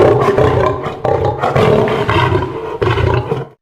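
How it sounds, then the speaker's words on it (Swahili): A lion roars and growls in a series of deep, rough, rumbling bursts, close and powerful, continuing for several seconds before cutting off. "Hii ni sauti ya simba."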